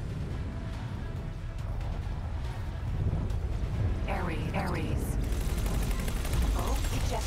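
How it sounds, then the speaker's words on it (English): Weapons fire in the space game X4 Foundations rakes the player's ship, a dense, continuous rattle of impacts and blasts over a constant engine rumble, with a few sweeping electronic tones partway through. "They are firing at me"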